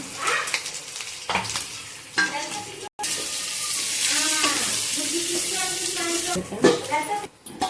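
Chicken liver fry is stirred in a hot pan, a close sizzle broken by scraping spoon strokes and clinks, with one brief gap midway.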